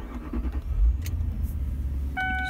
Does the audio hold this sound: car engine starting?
yes